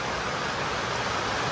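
Rain falls in a steady, even wash of hiss with no breaks or voices.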